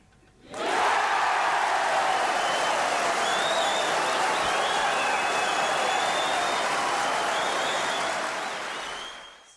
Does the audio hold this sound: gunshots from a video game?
no